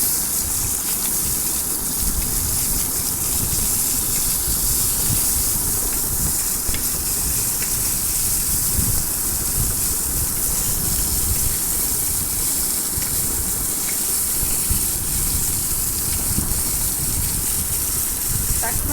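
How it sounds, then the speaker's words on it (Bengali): Taki fish frying in a pan, a loud, dense, unbroken sizzle and spatter close by that holds steady throughout. "টাকি মাছ ভেজে আমি ভর্তা করবো। এখন মাছগুলো উল্টে দিব।"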